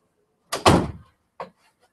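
A door is pushed shut with a loud close thump and rattle, followed a moment later by a smaller knock, in an otherwise quiet room.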